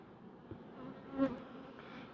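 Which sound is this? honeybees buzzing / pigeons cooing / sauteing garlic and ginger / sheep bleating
honeybees buzzing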